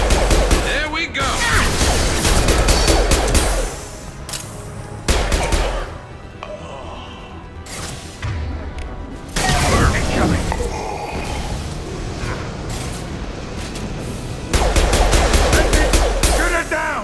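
Heavy gunfire in a Mass Effect Legendary Edition battle during Zaeed's loyalty mission, loud bursts of automatic fire and booming shots in several waves over shouted combat dialogue.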